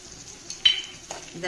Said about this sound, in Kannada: ಮೆಣಸಿನ್ಕಾಯಿ ಈರುಳ್ಳಿ ಎಲ್ಲ ಚೆನ್ನಾಗಿ ಮಿಕ್ಸ್ ಮಾಡಿಬಿಟ್ಟು ಸ್ವಲ್ಪ ಜಾಸ್ತಿ ಬೇಯಬಾರ್ದು ಸ್ವಲ್ಪ ಸ್ವಲ್ಪ ಫ್ರೈ ಮಾಡ್ತೀನಿ